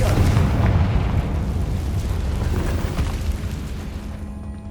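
A Confringo explosion spell goes off in Hogwarts Legacy: a deep, loud boom that rumbles and slowly decays over several seconds, with no voices.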